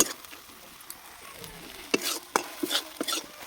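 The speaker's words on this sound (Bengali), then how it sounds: "মশলাটা ভালো করে কষানো হয়ে গেছে" Chilli powder and spices being stir-fried in a pan while cooking a puti fish curry, with soft scraping of a spatula and a few sharper clatters toward the end, close and moderately quiet.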